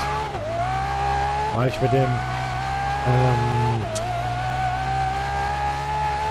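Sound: Koenigsegg Agera race car driving in video game GRID

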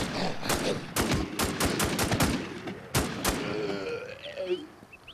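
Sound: gunfire emptying a magazine in Infestation Survivor Stories video game

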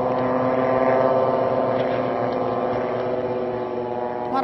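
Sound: military drone buzzing overhead

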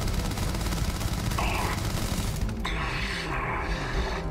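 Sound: gunfire in the Starfield video game

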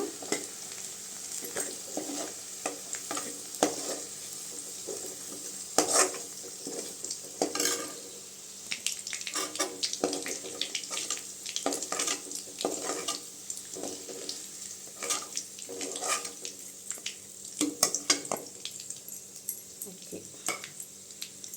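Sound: onions sautéing and being stirred in a pan

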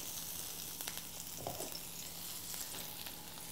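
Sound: chopped mushroom stems and rosemary sizzling in oil

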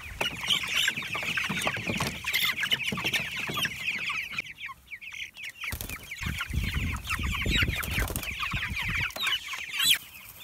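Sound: chickens clucking on a farm

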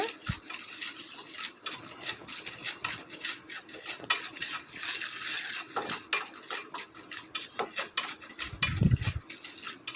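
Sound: roasting semolina (rava) in a pan

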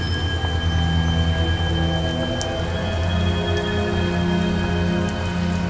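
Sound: rain in a scene from the movie The Amazing Bulk

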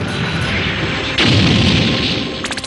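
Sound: cartoon cannon firing potatoes

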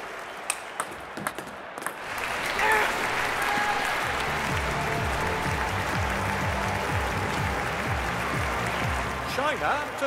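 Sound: crowd applause at table tennis match in London 2012 video game

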